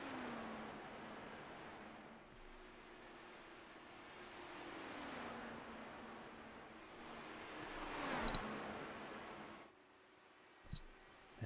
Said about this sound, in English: Zito and McKinney will now be lapped cars as Richardson passes them.